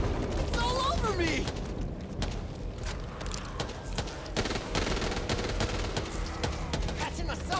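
Gunfire in the zombie shooter video game Back 4 Blood: rapid bursts of automatic shots and scattered single cracks, loud and close, mixed with mechanical clatter while a voice talks over the fighting.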